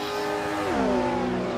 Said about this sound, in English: am having fun watching pretend race cars go very fast